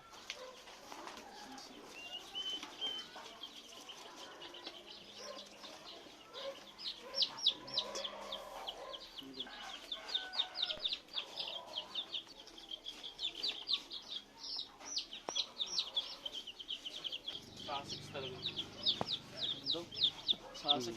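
A flock of chickens clucks and chirps steadily, with high peeps of chicks and young turkeys running throughout at moderate distance.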